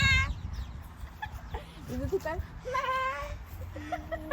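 A person's voice imitates a goat's bleat at an Australian animal park: a shaky, wavering bleat, then a second one a moment later. Other people talk and laugh around it, and there is an earlier rooster-like call.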